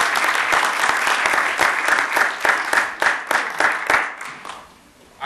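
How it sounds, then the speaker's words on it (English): An audience claps for presenters about to take the crowd through Ghana, a dense, steady wash of applause that thins and fades out toward the end, with no voices over it. "A round of applause, please."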